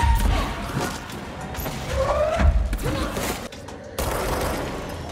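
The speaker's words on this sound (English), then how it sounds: "Who else is shooting at me?" Enemy gunfire in the action game Control, a dense, irregular volley of shots and impacts with crashes and mechanical clatter, fairly loud and continuous over the clip, with a voice speaking intermittently.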